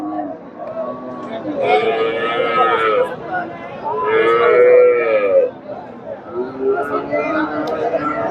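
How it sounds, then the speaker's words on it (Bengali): Cattle, including native dairy cows, mooing repeatedly at close range at Chandaikona cattle market in Bangladesh, long low calls rising over a busy market crowd with people chattering throughout. "দর্শক হাটে মোটামুটি প্রচুর দেশি গাভী গরুগুলো আমদানি হয়"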